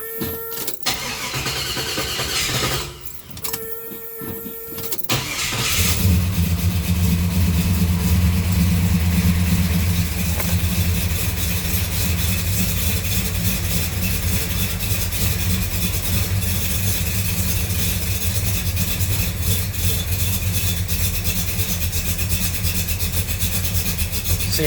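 A 1970 Buick Skylark with a 284-88H cam cranks and catches after a few seconds of rustling, then settles into a loud, steady fast idle that runs on alone.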